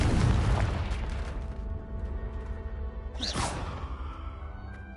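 In the Hogwarts Legacy video game, the Confringo fire spell goes off with a deep booming blast that rolls and fades, followed by a quick whooshing burst near the end.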